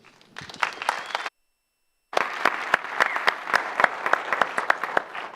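Conference audience applauding as a speaker comes up, crisp clapping from a modest room of people with individual claps audible, broken by a brief full silence before resuming steadily.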